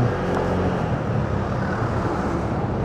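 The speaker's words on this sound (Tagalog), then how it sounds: "Medyo matraffic dito sa bahay ng nag-Carlan" Steady roadway traffic streams past a Yamaha Mio Gravis V2 scooter on a busy road toward San Pablo in Laguna, making a loud, continuous rumble and whoosh of passing vehicles without a break.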